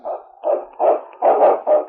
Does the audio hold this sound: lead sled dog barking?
yes